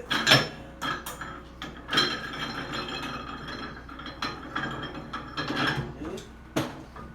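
A wheel assembly comes off a Coats 1300 2D wheel balancer with a steel rim, giving a run of close metallic clanks, rattles and ratchet-like clicks in irregular bursts, with no talk.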